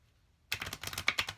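Queen of the Moon oracle cards shuffled horizontally by hand, a sudden dense burst of rapid papery riffling and flicking, close and fairly loud, following a moment of near silence.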